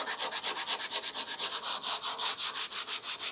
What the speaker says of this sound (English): I decided to try a card scraper.